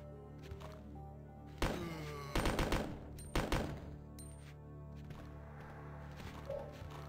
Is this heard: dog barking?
no